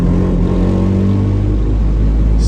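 Cabin of a VW Rabbit Pickup with no sound deadening on the move, a loud, steady low engine drone and road rumble filling the space with constant rattly resonance.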